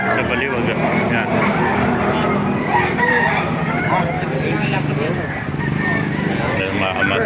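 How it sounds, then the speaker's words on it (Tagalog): Chickens and roosters at a poultry market in Baliuag, Bulacan, with loud rooster crowing and clucking over a continuous dense crowd din, people talking throughout and vehicle noise in the background. "ang daming manok kayo dito"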